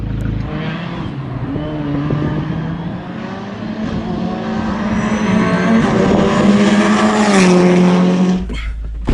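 Abarth 124 Spider rally car with about 300 horsepower at Rockingham, engine loud and close as it revs and holds steady through the gears, a rising harsh exhaust note with a brief squeal near the end before it cuts off.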